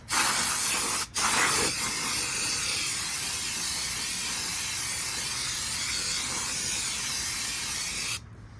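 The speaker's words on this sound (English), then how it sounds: "So we'll get my brake cleaner. I just like to spray everything down." Loud, steady aerosol brake cleaner spray hissing close up for about eight seconds on a 2019 Toyota Corolla's brakes, with a brief pause near the start before it resumes and then cuts off.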